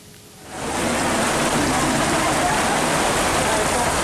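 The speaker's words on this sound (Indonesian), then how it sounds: "Inilah detik-detik saat hujan badai menerjang kawasan barak pengungsian di Desa Glagaharjo, Kecamatan Cangkringan, Yogyakarta, Kamis petang" A heavy rainstorm lashes evacuation barracks in Glagaharjo village, Cangkringan, Yogyakarta, surging in after a brief quieter moment into a loud, dense, unbroken roar of downpour.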